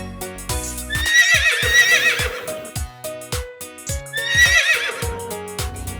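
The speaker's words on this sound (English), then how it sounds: "And finally, it's a horse. Hello, horse." A horse gives two loud, shaky whinnies a few seconds apart, with sharp knocking thuds and clip-clop beats around them.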